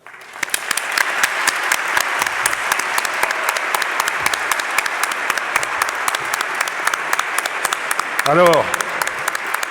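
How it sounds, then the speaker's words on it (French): Audience applause filling an amphitheatre in honour of teachers, a dense, steady clatter of many hands sustained throughout, with a brief spoken word at the start and a short whistle-like sweep near the end. "nous allons applaudir vos professeurs."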